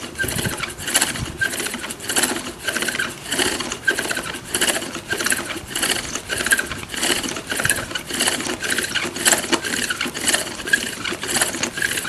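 A steady mechanical whir with rapid rhythmic chatter as a drill bit grinds into flint, running continuously at close range.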